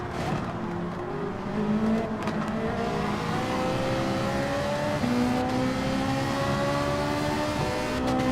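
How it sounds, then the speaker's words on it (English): Race car engines in Gran Turismo 7 roar and rev continuously, pitch rising and falling through gear changes, with several cars close together in a game race and faint tire noise. "Let's see if we can get past Apex Mister in the Sylvia, shall we?"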